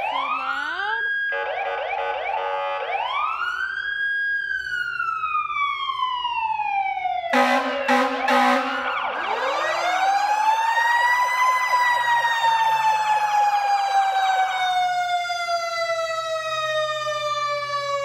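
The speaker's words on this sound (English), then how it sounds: "So we had him turn on the fire truck and Liam wore these" A fire truck siren blares close and loud, rising and falling wails with wavering yelps and a short burst of horn-like blasts in the middle, continuing throughout.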